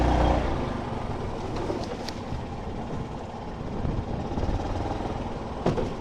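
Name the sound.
2025 Yamaha UMAX 2 Rally gas golf cart engine driving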